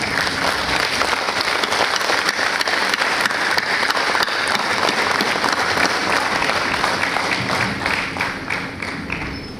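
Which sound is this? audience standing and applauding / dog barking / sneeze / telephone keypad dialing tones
audience standing and applauding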